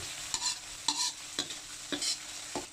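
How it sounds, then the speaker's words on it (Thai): A ladle scrapes and stirs pounded Thai curry paste frying in hot oil in a pan, about five quick rhythmic strokes over a soft sizzle, close up with no talking. "น้ำมันเริ่มร้อนเอาเครื่องแกงที่ตำไว้ลงไปผัดเลย"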